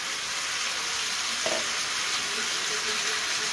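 Chicken cooked without oil sizzles steadily and loudly in a pan as chopped tomato is added, giving a constant close frying hiss with a brief soft splash and stir partway through and no talk.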